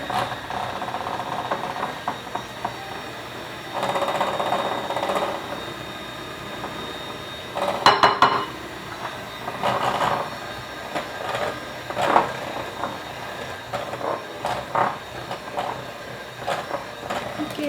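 An electric hand mixer beats fruit torte batter with a steady mechanical whir that rises in louder bursts as the speed changes and the beaters hit the bowl, running close and continuous with no talk.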